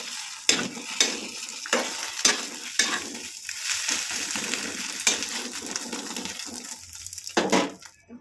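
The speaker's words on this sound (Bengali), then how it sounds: "ডিম ভাজা আমার এরকমই হয়" An egg frying in a pan on a home stove, steady crackling sizzle broken by sharp clinks and scrapes of a utensil against the pan, close by and with no voices.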